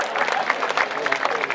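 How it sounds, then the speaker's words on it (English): Rodeo crowd clapping for the team ropers at a night show, a steady dense patter of applause with no clear voices over it, holding at an even level for the whole stretch. "how about a nice round of applause for all the team ropers here tonight"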